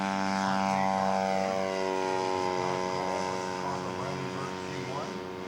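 A 122-inch scale model Hansa Brandenburg with a propeller engine flies overhead, its steady, loud engine drone holding throughout with shifting harmonic whine as it passes; announcer-style talk is faintly present beneath.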